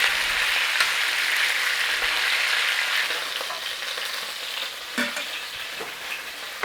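Beef sizzles and fries in an Instant Pot, a loud continuous crackle with occasional stirring scrapes and clunks, close up and without talk.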